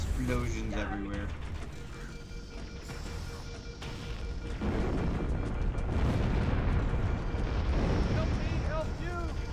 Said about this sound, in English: Explosions everywhere.